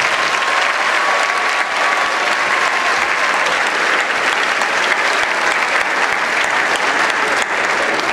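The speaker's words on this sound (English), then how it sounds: "Please give these students a big round of applause." Sustained applause fills a high school graduation ceremony hall, a dense, even wash of many hands clapping for the full length without a break.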